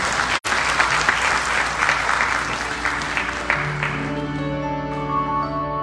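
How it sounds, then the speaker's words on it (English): An audience at a Ramayan yagya birthday gathering at a Durga temple claps for kirtan musicians, dense close applause that fades as sustained harmonium-like tones swell underneath. "Musicians, let's give them a lovely round of applause,"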